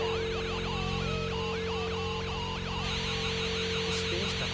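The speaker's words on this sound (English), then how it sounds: "Even without the annoying noise of the horn, like, the weird sort of reverberant sound you can hear." Space Docker car horn in GTA Online: a steady, reverberant, warbling electronic tone with wobbling siren-like melodic sweeps over a constant humming drone, continuous and fairly loud throughout, with no talking.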